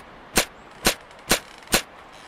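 Four sharp gunshots ring out in an indie video game, evenly spaced about half a second apart, close and punchy with brief decays, no voices.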